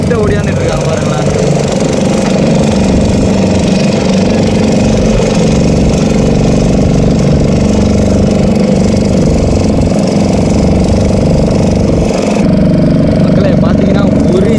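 A racing boat's engine at full load during a sailing boat race, a loud, continuous, steady drone that sits close and never drops away across the whole stretch, with no break in its rumble.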